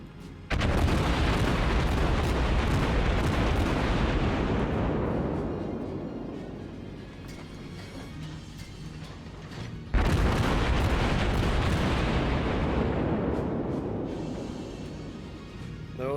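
Battleship South Carolina firing its guns in World of Warships: two heavy, booming salvos several seconds apart, each a loud blast that fades into a long rolling rumble.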